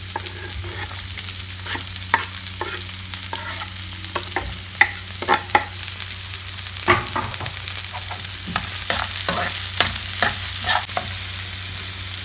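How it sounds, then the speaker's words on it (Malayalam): Chopped onions hit a pan of lightly browned garlic for palak paneer, frying with a steady close sizzle and repeated scraping stir strokes throughout, with no voices. "ഗാർലിക് ചെറിയൊരു ബ്രൗൺ കളർ ആകുന്ന സമയത്ത് അതിലേക്ക് നമ്മൾ ഉള്ളി, ചോപ്പ് ചെയ്ത് വെച്ച ഉള്ളി ഇടും"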